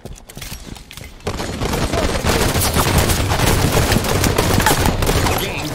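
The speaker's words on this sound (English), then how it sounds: "I hear gunfire." Heavy automatic gunfire rattles in the Halo 5 video game, quiet for the first second before dense, continuous bursts run to the end.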